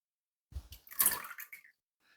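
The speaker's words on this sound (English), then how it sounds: "I'm going to pour our syrup straight in this." Homemade Jamaican ginger beer syrup is poured straight into a container in one brief, close splashing pour with a few trailing drips, and no talking.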